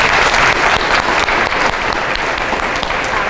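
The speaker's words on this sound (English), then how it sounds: "Let's give him another round of applause" Loud, dense applause from a graduation ceremony audience, a steady wash of many hands clapping close by that continues without pause.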